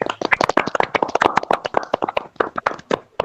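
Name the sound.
class clapping hands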